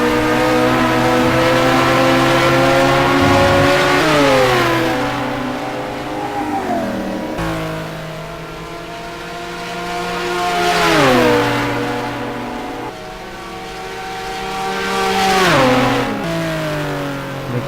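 Race car engines in a sim racing game at Spa, with a Lamborghini and a McLaren battling: loud, layered engine notes that rev up and down through repeated gear changes, cars passing one after another without pause.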